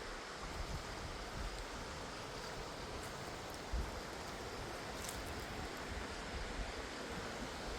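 Snake River runs as a steady, broadband rush of flowing stream water, continuous and fairly loud, with a light breath of wind and no voices.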